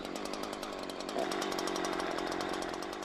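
A chainsaw runs steadily at high revs, a loud, close buzzing drone that holds without pause and carries no speech.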